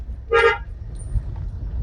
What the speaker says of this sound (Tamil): ஹார்ன் கூட பார்த்தீங்கன்னா ட்ரம்பட் ஹார்ன் தான் போட்டிருக்காங்க